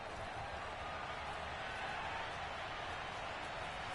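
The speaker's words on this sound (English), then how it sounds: "You can already start to hear this crowd. They're saying, go for it." A stadium crowd in a Madden American football video game sends up a steady, dense roar with no breaks, filling the background at an even level for the whole stretch.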